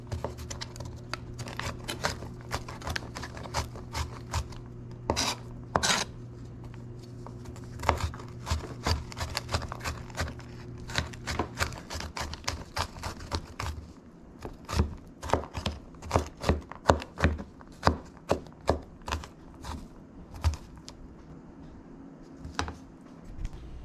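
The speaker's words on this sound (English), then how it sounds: "So we have crushed and then sliced garlic." Garlic being sliced with a knife on a board in a home kitchen: a run of sharp, close, irregular taps and cuts that grows denser and more rhythmic toward the end, with a steady low hum underneath and no talking.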